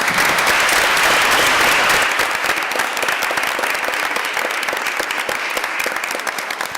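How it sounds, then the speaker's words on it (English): Sustained applause from an audience at a town council meeting, loud and dense at first and tapering slightly over nearly seven seconds, with no voices on top. "So could you welcome me and give them a great round of applause here."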